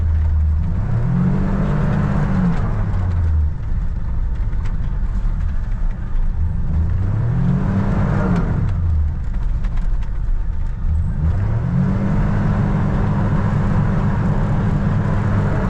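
A car drifting on an icy surface, its engine repeatedly rising and falling in pitch as it revs through three slow sweeping cycles, loud and close throughout with no talking.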